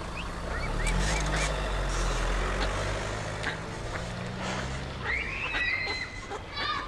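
Ducks quack and call repeatedly over a steady low rumble outdoors in cold weather in Amsterdam, with some brief background voices mixed in.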